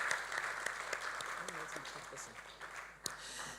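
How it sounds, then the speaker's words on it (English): Audience applause at a business conference as a speaker is welcomed to the podium, with a dense steady clapping wash running throughout and a voice speaking over it. "let's clap as we welcome Dr. Emmanuel Odumusi to the podium."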